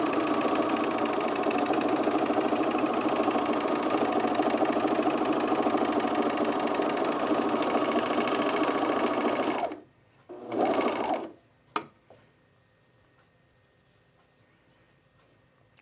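Sewing machine stitching elastic onto underwear, running loud and steady for about ten seconds, then stopping, with a couple of short bursts and a clack before near silence.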